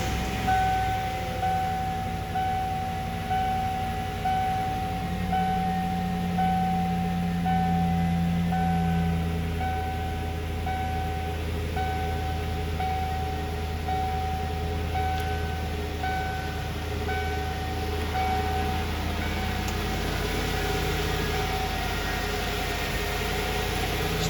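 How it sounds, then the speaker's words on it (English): A 1994 Ford F150 idles in a shop on a cold morning just after a cold start, a steady, close, even engine hum with a quiet exhaust and no talking. "let you hear that engine go down the low idle on its own"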